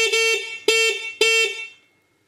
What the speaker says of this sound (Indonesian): Ini kecil-kecil kok garang bunyinya klakson.